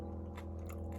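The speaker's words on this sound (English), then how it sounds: "Can you hear the crunch?" Close, quiet crunches of biting into pickled cauliflower in piccalilli, two short bites over a low steady background hum.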